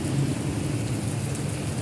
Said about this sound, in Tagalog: Lakas ng ulan mga ka-idol.